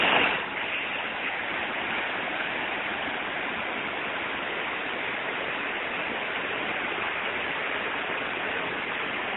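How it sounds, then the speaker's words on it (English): Mountain stream in Colorado flowing steadily outdoors, a continuous broadband rush of water that stays loud and even throughout with no voices. "I'll let you hear the sound of the stream"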